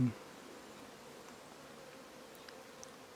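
Faint, steady buzzing of wild bees around a tree hole drones on over quiet outdoor ambience, with a few brief higher whines as individual bees pass close.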